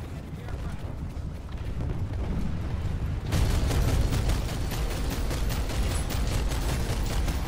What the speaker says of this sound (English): I got like a turret gun going on here.